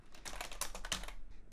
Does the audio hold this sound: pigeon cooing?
no